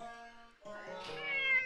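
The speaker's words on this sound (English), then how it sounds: "You probably heard him make that cry." An old cat lets out a drawn, wavering meow, close and clear, rising in pitch and strength toward the end with no talking over it.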